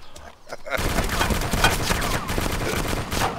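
Tank gunfire in the Arma 2 DayZ mod breaks out after a brief quiet, then a dense, sustained barrage of loud, overlapping shots and blasts continues to the end.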